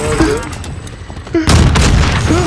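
Vehicle explosion and gunfire in Call of Duty Warzone, loud bursts of blasts and shots with a big impact near the middle, under excited voices talking over the game.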